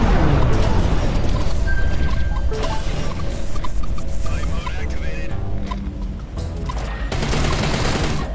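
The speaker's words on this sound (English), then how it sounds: "did not see that missile." Missile explosion in the Everspace 2 space combat video game, a loud crashing blast that rumbles on through dense debris-like noise for several seconds.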